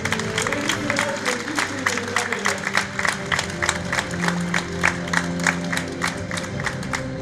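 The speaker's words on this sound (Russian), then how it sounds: "Бурные аплодисменты!" Audience at the Tantana 2021 theatre awards ceremony breaks into loud, sustained applause, the clapping steady and pulsing throughout, with faint music or tones held beneath it.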